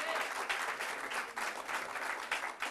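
A television studio audience breaks into brief, lively applause, clapping pulsing unevenly and continuing for a few seconds.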